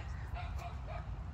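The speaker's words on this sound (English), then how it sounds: "That's my dog." A dog named TK gives faint, high yips and whimpers outdoors on a farm where tractors pass, under a steady low rumble of background noise.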